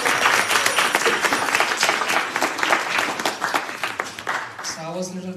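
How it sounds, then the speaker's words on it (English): Applause from an audience at a devotional retreat evening drama, dense steady clapping that tapers off at the end as a voice begins speaking. "One clapping for Sachi Mata."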